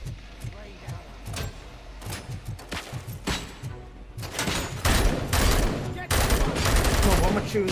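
Bursts of gunfire in the Robocop: Rogue City video game, starting as rapid repeated shots and building into louder, dense automatic volleys with crashing impacts, layered under talk.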